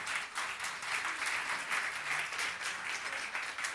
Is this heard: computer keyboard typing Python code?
no